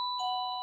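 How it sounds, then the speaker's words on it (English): A doorbell sounds once with a clear two-tone electronic chime, close and clean, ringing briefly and then fading, with nothing else audible. "doorbell going for some reason"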